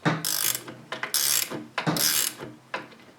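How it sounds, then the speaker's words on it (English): Gear shifter nut on a manual transmission shift linkage being tightened by hand tool in one- or two-turn increments, giving three or four close, bright ratcheting bursts with short pauses between, no talk. "So what you want to do here is tighten it up in increments of 1 or 2 turns."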